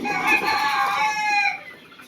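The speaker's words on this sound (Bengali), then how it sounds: "দেখুন অরিজিনাল মিশরীয় ফার্মি মুরগি" Fayoumi chickens cluck close by in a brief, continuous stretch of throaty calls.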